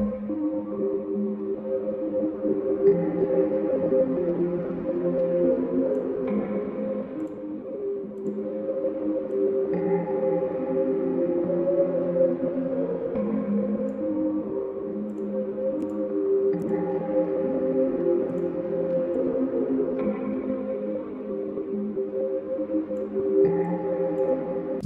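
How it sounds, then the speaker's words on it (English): A vocal run through the iZotope Vocal Doubler plugin, creating a widened, chorused doubling effect: a sustained, airy tone with slow swelling layers, moderately loud and continuous. "I also use it to create a doubling chorus effect"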